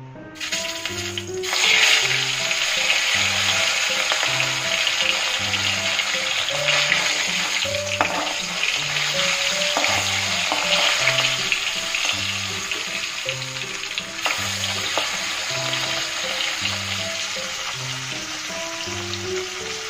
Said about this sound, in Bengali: তেল গরম হয়ে গেছে, এবার আমি এক এক করে মাছগুলো ছেড়ে দেবো।